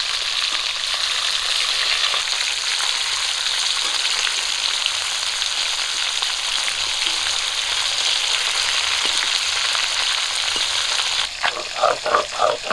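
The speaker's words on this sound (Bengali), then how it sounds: "মাছগুলো কিন্তু আমি একটু কড়া করে ভেজেছি" Snakehead fish fries in hot oil with a steady, bright, close sizzle that holds level throughout, then gives way to a short burst of rhythmic clatter at the end.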